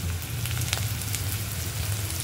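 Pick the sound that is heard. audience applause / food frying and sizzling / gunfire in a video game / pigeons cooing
food frying and sizzling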